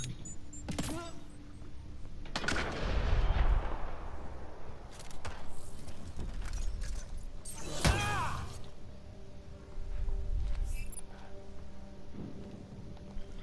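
Gunfire in the sci-fi shooter Mass Effect Andromeda, sharp shots and impacts scattered irregularly through dense game ambience, with one especially strong crack near the middle.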